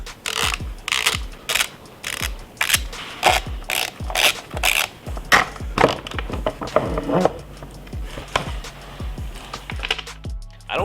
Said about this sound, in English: I'm gonna remove the front fender. We've got 4 10mm fasteners to remove.